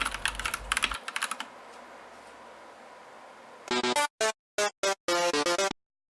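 Keystrokes on a compact 60% mechanical keyboard, first a few scattered clicks, then after a quiet stretch a loud, close burst of rapid clacking in short clusters that stops abruptly.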